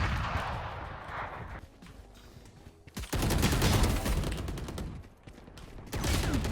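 Rapid bursts of gunfire from the video game Valorant, loud and close, come in two dense volleys separated by a quieter stretch with scattered shots.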